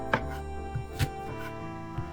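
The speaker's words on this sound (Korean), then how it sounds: "먼저 마늘 70g 으깬 다음에 곱게 다져주세요" Knife mincing crushed garlic finely on a cutting board, four or five sharp, separate chops at an uneven pace over a quiet room hum, close but soft.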